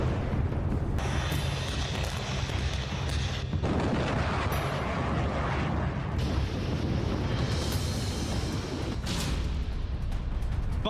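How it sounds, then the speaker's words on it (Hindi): Heavy booms and dense rumbling blasts roll on continuously, loud and chaotic, like artillery fire and explosions in the Russia-Ukraine war. "महायुद्ध में आपने अब तक कई धमाके देखे होंगे।"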